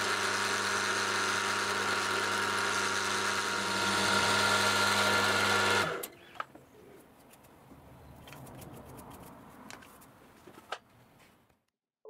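A steady machining whine from a Boxford lathe cutting a slot into a part runs loud for about six seconds, then stops abruptly, leaving quiet handling clicks and faint background sounds.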